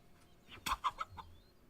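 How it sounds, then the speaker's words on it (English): A chicken gives a short burst of three or four close, sharp clucks in the video game Kingdom Come: Deliverance II, set against a quiet ambient background with no talk. "Fucking chickens, bro."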